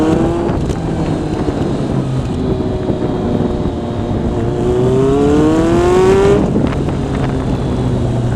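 A motorcycle rides on a road in a group run, its engine droning loud and close, rising in pitch as it accelerates with steady wind rush and no talking.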